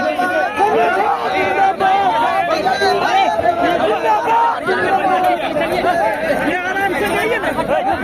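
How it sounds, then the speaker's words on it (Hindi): A dense crowd of supporters murmurs and chatters continuously at a district party workers' convention in Darbhanga, a loud, steady babble of many voices with no break. "और लोगों की भीड़ जुटी।"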